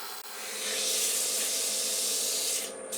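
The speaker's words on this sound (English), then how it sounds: "From there, a good sanding." Steady abrasive rasp of sanding maple wood, continuous and fairly loud for several seconds, with no voices.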